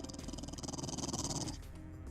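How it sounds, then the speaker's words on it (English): Krypto the superdog from DC Universe Online gives a short, gruff, growly bark, one close burst lasting under two seconds before fading into quiet. "Oh, Crypto is barking."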